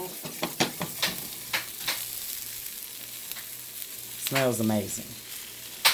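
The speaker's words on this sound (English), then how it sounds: "So now with the onions cooking down so far" Onions cook down in a pan until just softened and tender, giving a soft crackling sizzle with a few sharp clicks and a low steady hum, while a person speaks briefly near the end.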